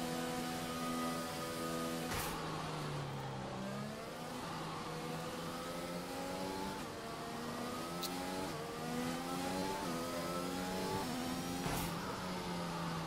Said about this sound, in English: What's this noises though?